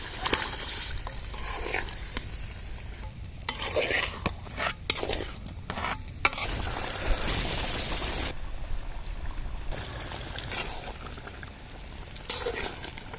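Chicken pieces being stir-fried with ground spices in a pan: close, intermittent scraping and clattering bursts with wet sizzling and slushy stirring between them, moderately quiet overall.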